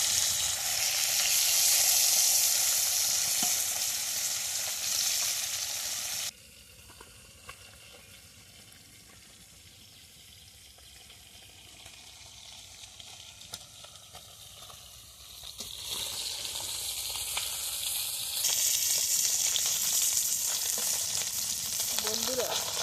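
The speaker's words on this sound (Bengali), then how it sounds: "এই মাছগুলোকে এত সুন্দর করে ভাজতে হবে, ভালো করে ভেজে নিলে আর হবে না, ভেঙে যাবে না ঝোলে দিলে।" Fish sizzling as they fry in a pan of oil, in preparation for a fish curry. The crackle is loud and steady, drops quieter in the middle stretch, then builds back up to a strong, bright hiss.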